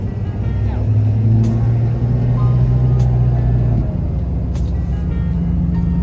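Loud 6.7 diesel truck idling and pulling away up close, a deep steady exhaust drone with turbo whine rising above it, a brief hiss midway and the engine note shifting near the end.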